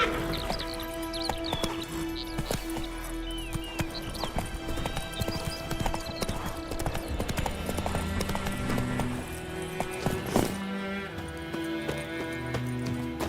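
Horse hooves clip-clop at a steady gallop in the video game The Witcher 3: Wild Hunt, loud and close throughout, with a whinny and layered game music and ambience around them.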